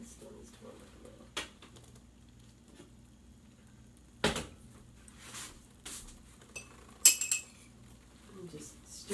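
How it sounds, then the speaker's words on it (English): A spoon scrapes and clinks against a pot while stirring melting cannabis-infused chocolate, scattered metallic taps and scrapes at close range amid quiet pauses, with a voice talking faintly in between. "And just stir this one around, make sure that that one little bit melts up like butter"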